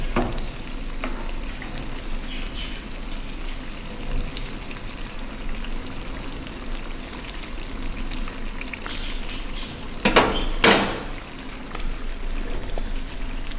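Sweet tikiyan frying in a pan of hot oil, giving a steady, moderately loud bubbling sizzle with a few louder clattering knocks near the end.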